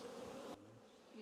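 Honey bees buzzing around an open hive during a vertical split for queen rearing, a steady close drone that drops off sharply midway and then swells again, with no talking.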